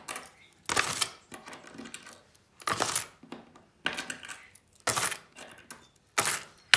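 Coins are handled and counted while setting aside a monthly budget, producing about eight sharp bursts of metallic clinking spaced irregularly, close and clear with quiet gaps between.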